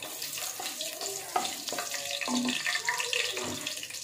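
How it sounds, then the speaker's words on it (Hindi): Whole spices sizzle in hot ghee while cooking goat head, a steady, close, bright frying hiss with small crackles and a few stirring scrapes, no talk. "तो ये मसाले घी घी में शामिल करेंगे और इसको अच्छी तरह सौते कर लेंगे"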